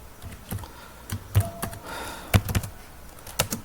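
Fingers tap out a C program on a computer keyboard, sparse uneven clicks and small clustered bursts up close, with quiet pauses between and no voices.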